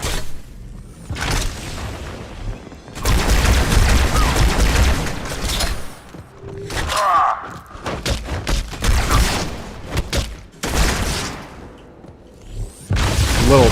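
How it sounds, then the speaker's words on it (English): Grenades explode in an Xbox shooter, heavy booms and rumbling blasts in several bursts amid scattered gunfire and whooshes, loud and close, with brief gaps between explosions. "I love the grenades in this game."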